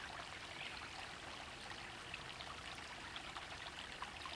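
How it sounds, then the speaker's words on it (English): Steady rushing water from a nearby stream fills the background at an outdoor black powder shooting spot, a continuous, even hiss with no talk over it. "We got that nice rushing water in the background, almost soothing and relaxing for me."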